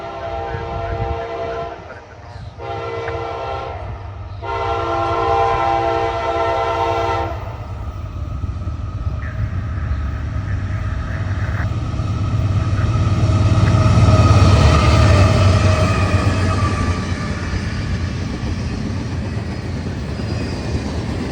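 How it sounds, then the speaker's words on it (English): CSX intermodal freight train I-104, led by three GE locomotives, sounds several loud, sustained horn blasts, then a heavy rolling rumble that builds and lingers as the train passes close by. "First was I-104, intermodal traffic out of Bedford Park, Illinois, bound for South Kearney, New Jersey, with 3 GEs on point."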